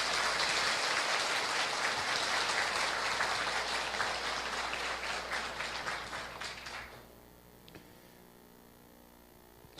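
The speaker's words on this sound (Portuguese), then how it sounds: "Vamos dar uma salva de palmas para eles." Audience applause at a Spiritist lecture hall, steady dense clapping for about seven seconds before fading out, leaving a faint room hum.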